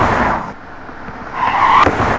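A car pushes into a crowded slum neighbourhood, its engine roaring loud and close, dipping briefly, then swelling again with a tire squeal or skid near the end.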